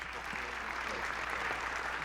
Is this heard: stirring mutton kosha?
no